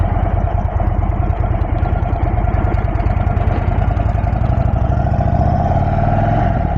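An Indian Sport Chief motorcycle engine runs close by with a steady, throbbing idle and slight rises in revs, loud and continuous, with no talking.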